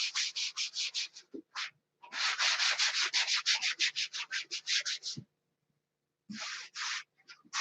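Blocker coat on the cap strips is sanded by hand, a fast steady rhythm of close, loud rubbing strokes in long runs broken by short pauses.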